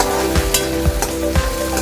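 Mustard seeds, cumin, onion and tomato tempering in hot oil for a Maharashtrian patodi rassa, a close, steady sizzle broken by several rhythmic scraping stirs of the spoon through the pan.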